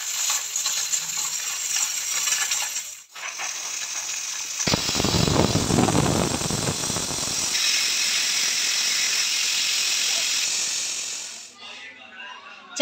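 A pressure cooker cooking vajri (tripe) lets out a long, loud, shrill whistle close by, swelling into a rushing burst of steam midway before tapering off, with a voice faintly present at times.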